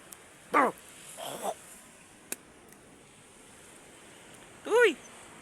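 A couple of short barks or yelps from a thin dog nearby, spaced apart, with wind and a faint background hiss between them.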